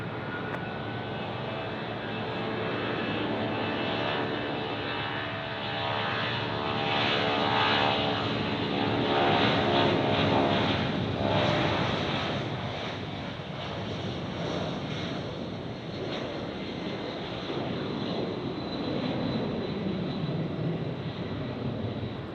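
An airplane at Tampa International Airport passes as it lands on runway 19 right at night, giving a steady, loud engine roar that swells and fades slightly over about twenty seconds, with some wind rumble and no speech.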